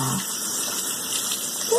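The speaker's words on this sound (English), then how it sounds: "Gotta rinse it off with the water." Running tap water rinses soap off a pair of hands, a continuous broad gushing rush held steady throughout, close by, with no clear talk over it.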